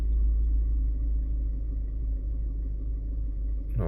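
A 2014 Chevy Equinox idles in gear with a heavy shake, giving a continuous deep, close rumble with an uneven throbbing beat, ending in a brief higher click or rattle.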